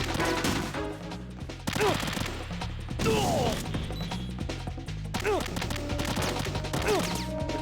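Gunfire and bullet impacts from the Metal Gear Solid 2: Sons of Liberty video game, dense repeated shots and crashing hits filling the whole stretch, loud and busy with occasional sharp bursts and whistling ricochet-like sweeps.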